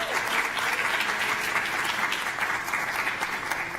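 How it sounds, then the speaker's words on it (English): Audience applauding for the board chairperson at a National Puerto Rican Day Parade announcement, dense continuous clapping from a crowd, loud and sustained without a break. "I want to give another round of applause for our chairperson, Luis Maldonado."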